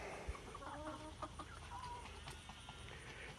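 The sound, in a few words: chickens clucking in a coop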